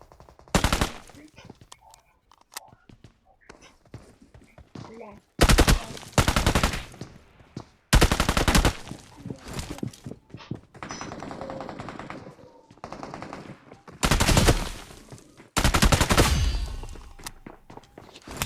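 Heavy bursts of automatic gunfire from a BGMI squad fight, several loud rapid volleys separated by quieter stretches with scattered shots and footsteps.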